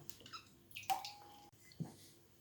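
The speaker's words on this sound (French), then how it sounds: "on va mettre de la crème liquide" Liquid cream poured into a quiche egg-and-milk mixture for an onion and smoked bacon quiche, a short splashy pour with a brief trickle and a small splash near the end, close and fairly quiet.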